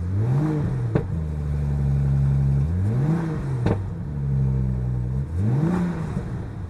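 A BMW M135i engine revs repeatedly in rising and falling sweeps, with exhaust note and sharp turbo flutter bursts after each rev, close and fairly loud with no talk.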